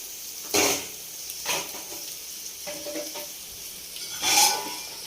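Chicken frying in a pan for biryani, a low steady sizzle with a few louder stirring scrapes and clinks rising over it at intervals, close by and without speech.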